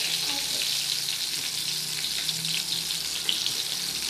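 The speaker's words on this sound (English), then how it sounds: "first I have to fry the baingan up to golden brown" Eggplant (baingan) frying in oil, a continuous close sizzle and crackle with occasional soft stirring scrapes, steady in level with no talk.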